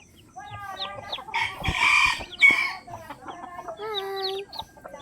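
Hens cluck and a rooster crows near newly hatched chicks, with several overlapping calls and a loud burst in the middle, close and clear with no talking.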